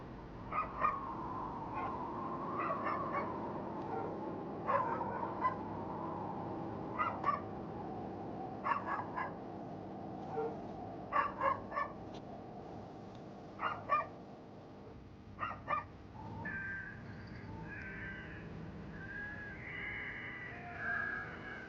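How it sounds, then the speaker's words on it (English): Short, sharp barks from dogs some distance away, arriving in scattered bursts over a low, steady outdoor rumble, in snow leopard country. "Is that what's making the dogs bark?"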